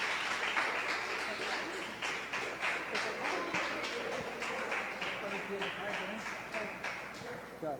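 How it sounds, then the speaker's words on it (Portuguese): Church congregation applauding during a family worship service, a steady crowd of clapping across the whole stretch with voices mixed in. "Aplauda o nome do Senhor."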